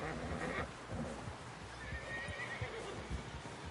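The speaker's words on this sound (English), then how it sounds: "Someone help John down off this horse." A horse in Red Dead Redemption 2 whinnies loudly while hooves clop rhythmically underneath, close and clear.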